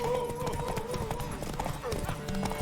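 Rhythmic clip-clop of horse hooves trots along beneath a wavering melodic tone, with talk-like sounds mixed in the background, in the video game The Witcher 3: Wild Hunt.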